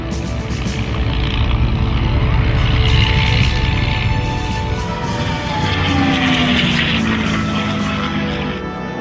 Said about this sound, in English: I fly the P-51 Mustang Jumping Jack, which is a pretty famous aeroplane around Europe